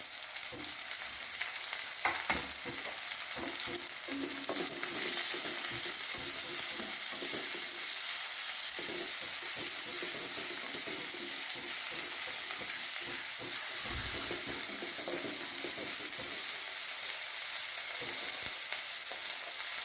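Onion fries in oil in a pan, a steady, bright sizzle running continuously, with occasional low stirring scrapes and knocks beneath it.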